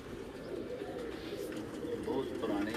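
Pigeons coo on a rooftop in Gujrat, a low steady murmur of several birds blending with background noise and faint voices.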